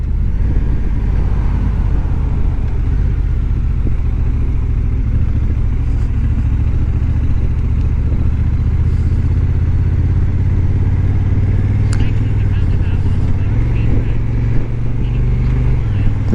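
Steady, loud motorcycle and car traffic rolls past on a road, engine drone and wind rumble constant throughout, with a brief sharper mechanical clatter near the middle.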